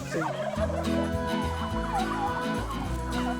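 A flock of turkeys on a turkey farm in the Fens gobbles in dense, overlapping bursts. The calls are loud and close, with many birds chattering at once and no talk.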